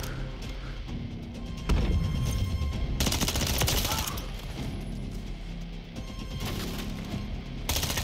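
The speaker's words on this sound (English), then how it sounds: "A little bit of alcohol abuse there, shooting the bottle" Gunfire in a shooting video game rattles through several rapid bursts of shots at close range, with sharp crashes as a bottle is hit, in a free-for-all match.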